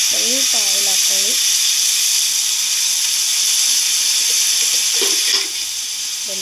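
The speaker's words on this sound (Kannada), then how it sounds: "ಬೆಂಡೆಕಾಯಿ ಫ್ರೈ ಮಾಡಿ" Okra frying in oil alongside onions in a home kitchen pan, a dense, bright, steady hiss of sizzling that runs throughout, with a voice speaking briefly near the start.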